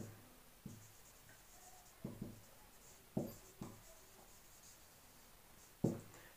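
Pen strokes scratch on paper while angle proofs are written out in a geometry lesson, quiet short scrapes and taps at irregular intervals over faint room noise, with no talking.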